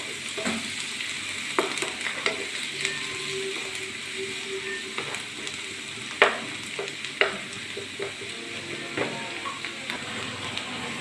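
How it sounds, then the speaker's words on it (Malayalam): Onions frying in a pan as they are stirred. A continuous moderate sizzle runs under repeated spatula taps and scrapes, with a few louder knocks against the pan. "സവോള ഇളക്കി കൊടുക്കുക."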